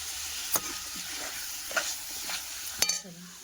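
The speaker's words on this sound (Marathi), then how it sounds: "रस्सा पण मला आता चुलीवर उकळून घ्यायचा आहे" Curry gravy heating in a pan on a wood-fired clay stove, with a low steady sizzle and a few sharp stirring scrapes at intervals, close and fairly quiet, with no talking.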